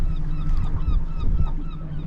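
Around a thousand gulls call over the sea from a fishing boat, many overlapping squawks in a dense, continuous chorus above a low rumble of wind and water.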